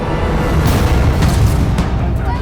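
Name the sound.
gunshot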